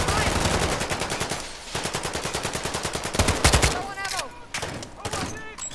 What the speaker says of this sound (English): I'll shoot, Zerk